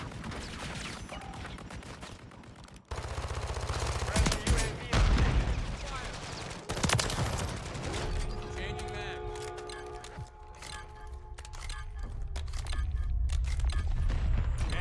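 Reclaimer 18 shotgun blasts in Modern Warfare 3 sound over a constant, dense wash of combat noise, with loud booming shots standing out early and midway while a voice talks over the action.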